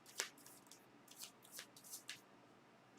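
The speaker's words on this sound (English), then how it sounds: "Shuffle." Tarot cards shuffled by hand in a quiet room, a series of soft papery riffles and slaps coming in irregular bursts, close but faint.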